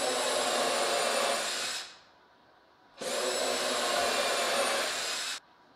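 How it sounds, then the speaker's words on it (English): Two sustained bursts of a high-pitched power drill whirring, drilling pilot holes and driving 9x25 screws with a T25 Torx bit, each a couple of seconds long, separated by a brief pause. "I'm gonna drill 2 pilot holes on each end, screw this together"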